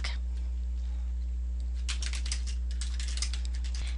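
Soft computer keyboard keystrokes tap in short irregular bursts over a steady electrical hum, fairly close and quiet, with no talking.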